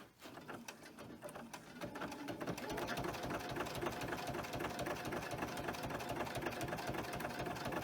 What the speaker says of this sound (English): We're going to sew it down here. We're going to put our zigzag on it.